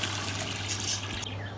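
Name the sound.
pouring yakhni stock into the pot for pulao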